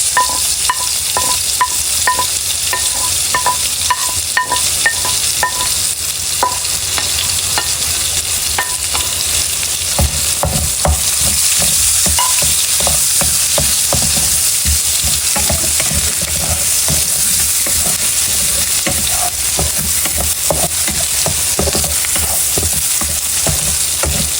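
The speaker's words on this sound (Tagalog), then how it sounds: "dito na lang din po ako magigisa po ng bawang at sibuyas." Garlic and onion sauté in the leftover oil from frying pork ribs, with steady loud sizzling, stirring and scraping throughout, plus a few clinks of utensils against the pan.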